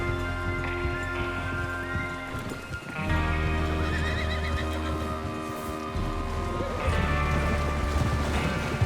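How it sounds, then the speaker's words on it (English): Horses in the Red Dead Redemption 2 video game whinny loudly and repeatedly while hooves clip-clop steadily beneath them, with a group of riders close by. "Get your horses ready."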